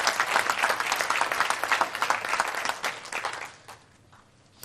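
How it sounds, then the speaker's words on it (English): An audience gives a loud, sustained round of clapping that holds steady for about three and a half seconds, then quickly dies away into near quiet. "Let's give them a round of applause in their absence for that."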